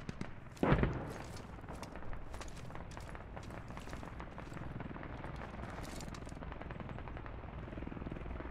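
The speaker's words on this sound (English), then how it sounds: "Enemy helo south." Enemy helicopter in the video game Squad during a city defense on the Narva map, rotor thrum heard at a distance under scattered gunfire and battle noise, with a sharp bang near the start.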